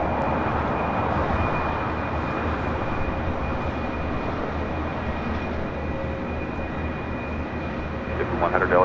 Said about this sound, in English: A350-900, touching down here on the south side